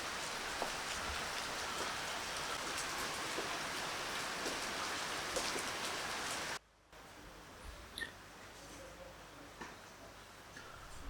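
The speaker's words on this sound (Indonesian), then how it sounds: "Di luar itu sedang hujan." Rain pours steadily outside in a dense, even patter with scattered drips, then cuts abruptly to a quieter, softer rainfall backdrop.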